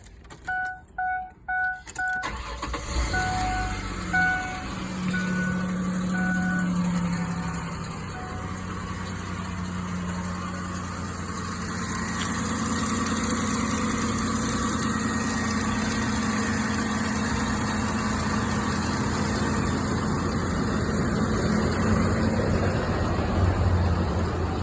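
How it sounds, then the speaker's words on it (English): A pickup truck used to jump-start a 2007 Buick Lucerne with a dead battery cranks briefly after some jingling, then catches and settles into a steady, close engine idle with no voices. "I'm gonna start the healthy truck up"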